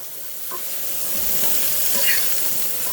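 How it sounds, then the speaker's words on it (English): Sunflower seeds toasting in a hot pan are stirred, giving a close, rising dry scrape and rustle over a soft sizzle, with no talking. "that's got a little bit of crisp on it, a little bit of browning, so I can stir them up"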